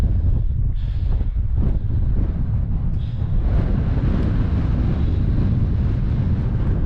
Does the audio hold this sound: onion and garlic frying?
no